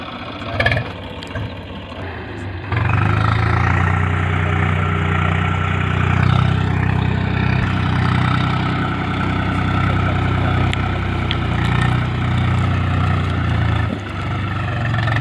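A tractor engine runs while ploughing a farm field, starting with a faint rumble before a loud, steady low drone kicks in and holds for the rest of the clip.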